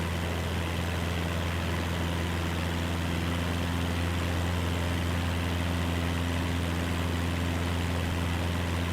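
Steady drone of a propeller aircraft engine in Microsoft Flight Simulator 2024 as the RPM is raised, an even, constant hum with a strong low tone and no talking.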